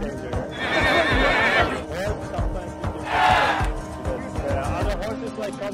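Horses at a Kokpa horseback game give two loud, drawn-out neighs close by, with hoof clatter and shouting voices in between.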